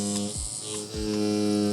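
A tattoo machine buzzes steadily during pendulum shading with lollipop pink blended into flesh tones, a close, continuous electric hum with harmonic whine that dips briefly twice in pitch as the needle is angled.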